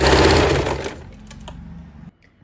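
A sewing machine stitching gathered fabric for bell-bottom sleeves, a fast close mechanical whirr that runs loud for about a second, then slows and fades before stopping.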